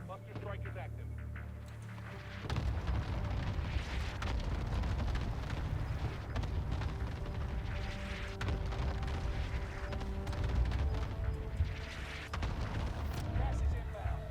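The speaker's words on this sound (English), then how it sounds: "Need an airstrike on my position now. Got your request. Cluster strike is active." Cluster airstrike in the Warzone 2 video game, a long rumbling roar of repeated deep booms and explosions, loud and continuous, with a voice speaking over it.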